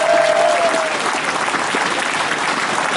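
A crowd claps steadily and loudly at a cancer centre rally in Calgary, dense applause that holds for the whole stretch with faint voices mixed in.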